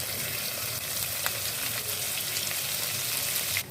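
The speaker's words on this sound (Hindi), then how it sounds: "ऑयल गरम हो गया। अब इसमें हम राई ऐड करेंगे। अब इसमें हम लहसुन अदरक डालेंगे।" Mustard seeds, garlic and ginger sizzle and crackle in hot oil in a pan. The frying is steady, close and fairly quiet, with a few sharper pops and no talking.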